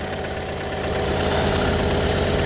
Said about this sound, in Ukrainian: Так він працює на холостому ходу.